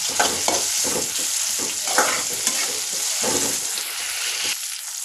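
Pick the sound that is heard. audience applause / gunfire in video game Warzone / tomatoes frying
tomatoes frying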